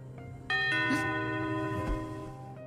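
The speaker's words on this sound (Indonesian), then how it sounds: "Bel pintu resort berbunyi" A bright tone strikes and rings out with sustained harmonic overtones, like a doorbell chime, over a low steady hum.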